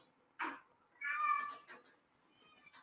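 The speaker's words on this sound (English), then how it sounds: "Yo, get the cat." A cat meows nearby, first a short cry, then a longer drawn-out meow, with faint softer sounds after it in a quiet room.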